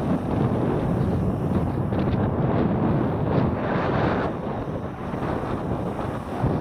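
Strong outdoor wind buffets a microphone where a drone is being flown, producing a loud, continuous rumbling roar that eases slightly near the end.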